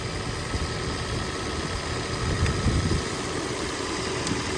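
An electric car air-conditioning compressor runs with a full refrigerant charge, giving a steady, continuous droning hum with broadband noise that holds level throughout, close by and without speech.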